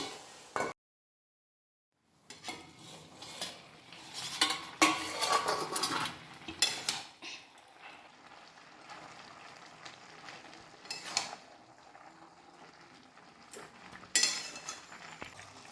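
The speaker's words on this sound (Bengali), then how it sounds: "শাকটা দিয়ে একটু চাপা দিয়ে দেব, তাহলে শাকটা নরম হয়ে যাবে। এবার একটু চাপা দিয়ে দিচ্ছি।" Metal clatter and clinks as a lid goes onto a pot of gourd greens, with stirring and a faint sizzle; after a short silence, a loud burst of handling, then scattered clanks with sharp spikes near the end.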